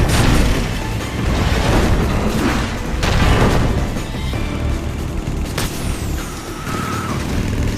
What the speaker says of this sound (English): I'm trying to shoot.